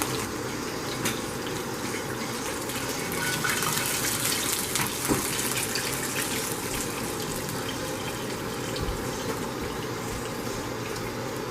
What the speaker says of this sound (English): I'm going to pour this oil into another container and reserve